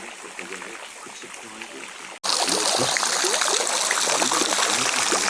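Water runs and drips constantly from the rock ceiling inside Mother Shipton's Cave, a soft trickle that swells into a louder, steady splashing stream after a brief break.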